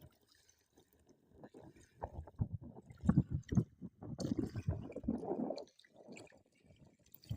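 Gentle small waves lap along the water at the Chinabadh embankment in Sirajganj, a faint, irregular wash and drip rising and falling over several seconds with no one talking.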